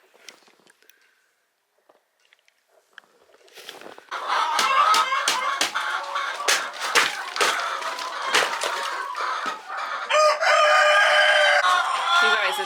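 Chickens cluck and squawk inside a chicken house, loud and close after a few quiet seconds, with bursts of agitated calls and rustling from the hens.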